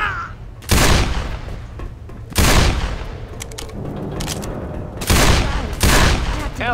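Heavy gunfire in Left 4 Dead, on the Dark Carnival campaign, erupts in four loud, close bursts of shooting separated by quieter stretches of rumble and faint clatter.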